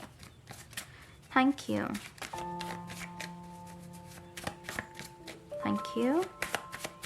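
A handmade deck of cards is shuffled by hand in quick riffling bursts, near and clear, broken up by someone speaking and short electronic tones.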